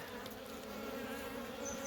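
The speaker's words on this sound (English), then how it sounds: "Couple of shiny-ish bees there" Honey bees from an overwintered nucleus colony buzz continuously at close range, a dense, steady drone of many wings with no pauses.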